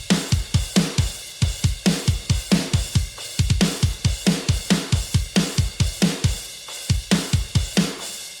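Rock drum pattern built from drum kit samples: punchy kick and snare hits repeat in a steady, tight groove with bright cymbals throughout, loud and close with no voices.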